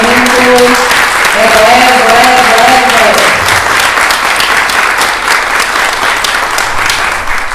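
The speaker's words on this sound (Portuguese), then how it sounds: "Palmas de reconhecimento." An audience at an event in Brazil applauds steadily for several seconds, dense clapping from a crowd that holds at a loud, even level while a voice briefly speaks over it at the start.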